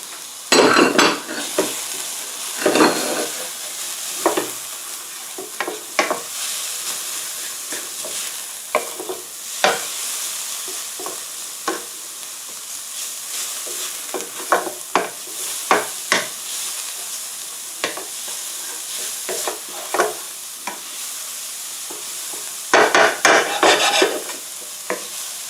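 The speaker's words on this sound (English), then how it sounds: "Then you want to go ahead and get your the garlic, put that in there, and let's stir this in." Garlic stirred into crawfish jambalaya in a hot pot, with steady sizzling and repeated scraping, clinking spoon strokes against the pot, close and fairly loud throughout, no talking.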